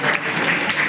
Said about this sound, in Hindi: एक बार जितने लोग यहाँ उपस्थित हैं, मैं चाहता हूँ ताली बजा के बताऊं यार।